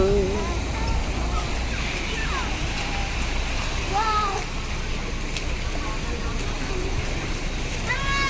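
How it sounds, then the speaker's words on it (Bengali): Dense, steady roar of heavy rain pouring down in Dubai, constant and loud throughout, with faint voices and whistling sounds in the background. "ডুবাইতে এত বৃষ্টি আমি আর কখনো দেখি নাই"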